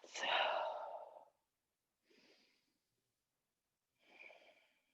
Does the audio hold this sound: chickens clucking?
no